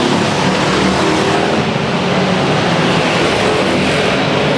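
Race cars roaring steadily at Madera Speedway during the Pumpkin Smash 100-lap enduro, a loud, continuous wash of engine noise with no break and no talk.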